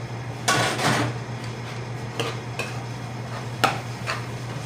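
Baingan bharta being mixed with coriander, giving scattered metallic clinks and scrapes of a spoon against a pot over a steady low hum.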